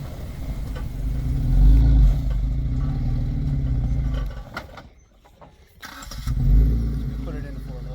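A four-wheel-drive vehicle backing into a spot at a snowy winter campsite, its engine rumbling low and steady, swelling around mid-clip, dropping away briefly, then rising again, with people talking over it.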